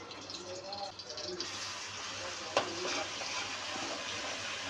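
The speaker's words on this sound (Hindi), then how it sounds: "लहसुन हमारा फ्राई हो चुका है।" Garlic paste sizzling in hot cooking oil in a pan, a steady dense frying hiss that swells after a soft start, with a single clatter midway and faint voice-like murmurs underneath.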